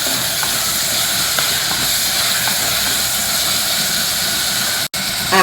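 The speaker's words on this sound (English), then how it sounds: "I am adding in 2 ripe red chopped tomatoes and stir fry them also till the tomatoes become soft and mushy" Two ripe, chopped red tomatoes stir-fry in a hot pan with a loud, continuous hiss that drops out briefly near the end before returning.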